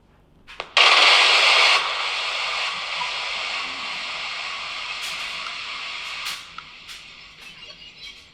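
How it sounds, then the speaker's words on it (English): A radio with its antenna removed hisses with loud white-noise static that bursts on sharply, then settles to a steadier, quieter hiss broken by a few brief clicks and crackles. "All I wanted was white noise, and that's what I have."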